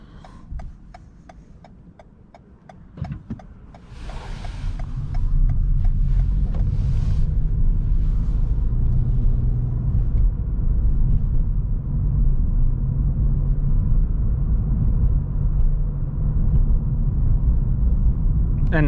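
Toyota Yaris Hybrid 2021 with 116 HP, Sport trim, cruising in B mode for regenerative braking: steady low road and engine rumble builds and holds loud inside the cabin, with faint ticking early on.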